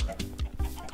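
Chickens cluck in quick bursts at close range inside an enclosure with more space, a few short clucks spread across a brief moment with no talking.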